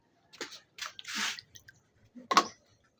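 Someone eats, producing several separate wet chewing and squishing bursts with quiet pauses between them, close to the listener.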